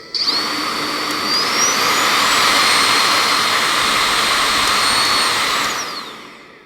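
A cordless vacuum cleaner runs close by as a loud, continuous whine. Its pitch rises as the suction level is stepped up, holds steady, then falls away as it winds down. Nobody talks.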